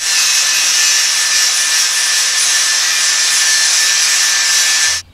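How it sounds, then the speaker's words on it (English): Angle grinder with a flap disc grinding paint off a Jeep Cherokee XJ axle tube, a loud steady high-pitched whine held continuously for about five seconds before stopping abruptly. "I'm going to take a flap disc on a grinder and grind away all this paint on the axle tube."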